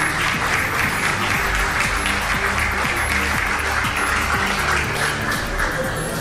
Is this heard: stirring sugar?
no